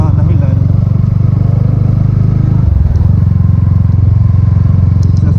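A motorcycle engine fitted with a new replacement muffler idles steadily and loudly up close, with a deep, pulsing exhaust note that shifts slightly partway through.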